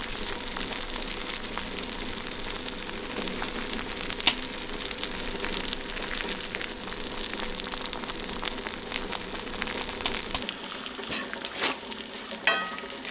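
Bread frying in a generous amount of butter on a wood stove inside a wall tent in deep cold, a steady close sizzle and crackle that runs without talk, then thins and quiets near the end.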